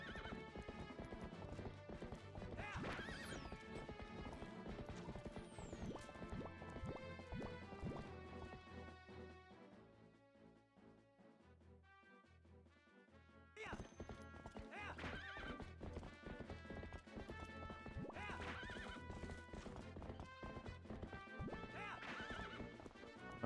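A horse gallops with steady rhythmic clip-clop hoofbeats and whinnies in the Zelda Twilight Princess video game, set against busy game music, the hooves easing briefly mid-way before picking back up.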